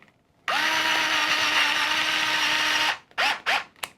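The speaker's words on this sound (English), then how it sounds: "and then I can screw this back in too" A Fanttik S1 Apex cordless folding screwdriver drives a screw back in, a close motor whine held for about two and a half seconds, then a few short bursts as it finishes tightening; no talking.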